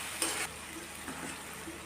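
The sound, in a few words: ingredients frying together in a pan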